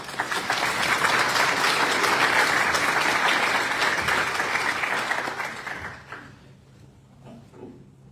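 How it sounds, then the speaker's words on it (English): A crowd at a Lee County sheriff candidates' forum breaks into loud, sustained applause for about six seconds, then it fades quickly into a quiet room. "Let's give him a round of applause"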